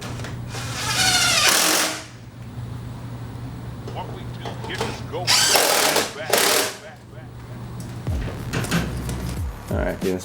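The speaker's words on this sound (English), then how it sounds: "Now we're going to install the 3 10mm bolts back up into the brackets." A power tool drives three 10mm bolts into fender retention brackets on a Jeep JL, running in two loud whirring bursts over a steady low hum, with a softer clatter of parts afterward.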